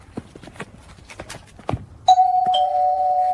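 An AI-generated doorbell rings once with a sustained electronic tone that holds to the end. Soft scattered clicks and footstep-like taps come before it, and no one speaks.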